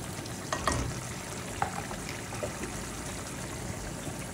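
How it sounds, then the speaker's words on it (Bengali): Spice paste for a Bengali-style chicken curry being stirred as it fries in a pan. A soft, steady sizzle runs throughout, with a few light scraping clicks from the stirring near the start. "সব কিছু দিয়ে আমি একটু নাড়াচাড়া করে নিচ্ছি"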